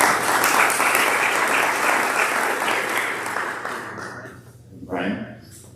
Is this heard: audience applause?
yes